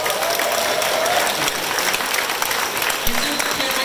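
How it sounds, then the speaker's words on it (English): Audience applause at a Katsuhiro Otomo event in Los Angeles, loud sustained clapping from a large crowd, even and continuous, with a brief thump near the end. "Big round of applause"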